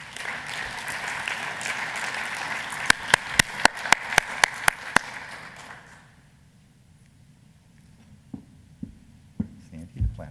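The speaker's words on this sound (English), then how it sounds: "give a warm round of applause to a wonderful person and a wonderful speaker, Sandy Barker." An audience applauds at a stem cell summit. The loud clapping holds steady, a few sharp claps stand out, and it fades out after about six seconds, leaving faint scattered knocks.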